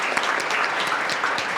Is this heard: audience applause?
yes